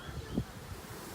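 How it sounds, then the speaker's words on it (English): Honey bees from a large hive buzz during an open hive inspection, a faint, low, steady hum with a slight swell near the middle of a brief moment. "That's a lot of bees."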